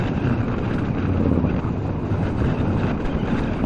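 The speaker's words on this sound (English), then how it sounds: "you can kind of get a sample of the wind noise right now" Steady buffeting wind roar rushes past the microphone while riding a 2017 Kawasaki Ninja 650 motorcycle, loud and continuous with a low engine drone underneath.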